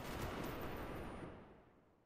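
Blind gunfire in the video game Black Ops: a dense, loud burst of shots that merges into a continuous roar, then fades away over about two seconds, with no talking.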